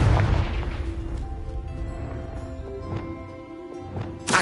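Explosive blasts from the Confringo fire spell in Hogwarts Legacy, a heavy boom at the start followed by scattered sharper pops and a final burst, with game music humming underneath.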